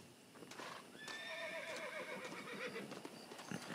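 A horse in the Red Dead Redemption video game whinnies with a long, wavering neigh over clip-clopping hooves, heard clearly against a steady game-world background.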